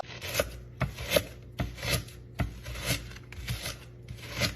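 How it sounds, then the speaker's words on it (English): Onions being cut on a board, a series of about a dozen close, regular knife strokes with a scraping edge, each stroke distinct, no talking. "Cutting onions."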